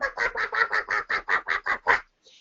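A voice imitates ducks quacking, about ten loud, evenly spaced quacks in a quick steady rhythm, close and clear, ending in a short faint tail.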